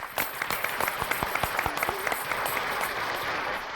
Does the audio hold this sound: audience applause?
yes